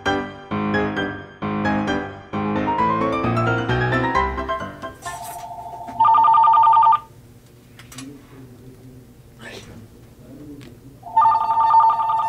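A ringtone plays from a newly found mobile phone, two loud bursts of steady electronic tones separated by quieter moments, following a stretch of music at the start.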